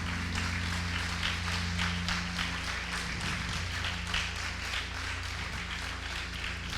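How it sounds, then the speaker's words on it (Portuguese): A church congregation at a Sunday service claps in a sustained, fairly even wash of many hands, with a low steady hum of the room's sound system beneath it. "Você pode aplaudir a Jesus?"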